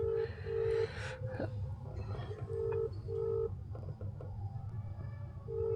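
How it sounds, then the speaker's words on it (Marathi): A phone rings while calling a customer from outside a housing society, repeated short electronic ringback tones in even pulses over a steady background hum, fairly close. "आपण कस्टमरला फोन लावलेला आहे"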